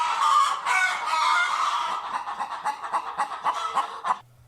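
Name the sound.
chickens clucking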